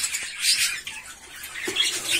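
Pet birds, newly brought home and being fed salad, giving a few brief high chirps and squeaks close by against a quiet background.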